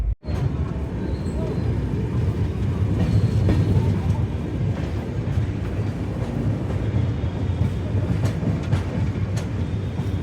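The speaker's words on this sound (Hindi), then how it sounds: "हमारी ट्रेन ठाकुरगंज पहुंचते हुए ठाकुरगंज में इन कर रही है, प्लेटफॉर्म नंबर 1 पे" The New Jalpaiguri Capital Express rolls into Thakurganj station, heard from aboard as a loud, continuous low rumble with rhythmic wheel clatter and occasional metallic clicks throughout.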